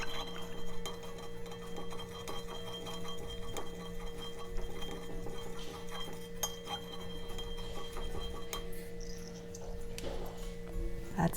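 A spoon stirs boba tea in a glass, making soft, repeated clinks against the side of the glass. The stirring is quiet and close with faint background hum.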